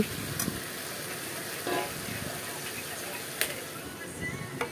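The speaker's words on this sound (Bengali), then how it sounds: "এখন মশলা দিয়ে ভালো করে কষিয়ে নেব।" Tomatoes and fried vegetables cook with spices in a pan for a Bengali small-fish chorchori with onion. A steady, close sizzle hisses throughout, broken by a few light stirring clatters.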